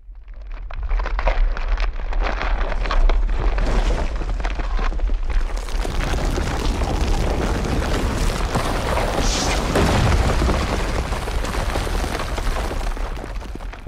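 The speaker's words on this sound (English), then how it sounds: "After the wind, there was an earthquake." Earthquake sound effect: a deep, continuous rumble with crackling and booming texture, loud and sustained throughout, swelling slightly partway through, with no voices.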